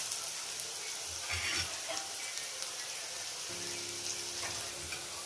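Paneer fried rice ingredients frying in a pan, a soft continuous sizzle with a faint low hum entering partway through, quiet and steady with no talking.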